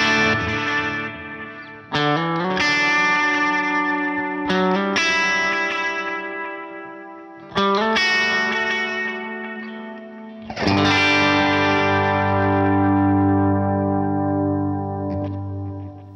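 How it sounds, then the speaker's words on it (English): Electric guitar chords through a Universal Audio UAFX Ruby '63 Top Boost amplifier pedal ring out in several spaced strums, each swelling into wide, shimmering stereo reverb and delay repeats that slowly fade, no voices. "like I'm about to do the stereo reverb and delay"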